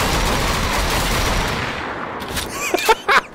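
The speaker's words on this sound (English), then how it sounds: "The double shotgun." A double-barrelled shotgun fires in Wolfenstein The Old Blood with a loud, dense blast that rumbles and decays for over a second, followed by a few sharp, brief clicks and bangs.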